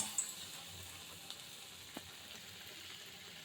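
A dahi bara lentil fritter fries in hot oil with a faint, steady sizzle broken by a few soft pops, close and quiet with no talking.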